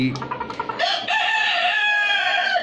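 Native chickens kept in cages on a small farm cluck in quick bursts, then a rooster crows one long, loud, close call that carries to the end.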